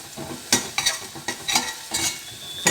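Turmeric stir-fries in a pan before beaten eggs go in. A close spatula scrapes and clacks in irregular strokes over a soft, continuous sizzle, with no one talking.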